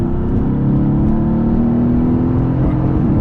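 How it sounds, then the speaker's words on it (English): A Mercedes-AMG GT S engine revs high with a loud, steady exhaust drone and a rising whine under acceleration, close up and continuous from inside the car. "It still takes the RPMs up pretty high, which is fun. You still get some sounds from the exhaust."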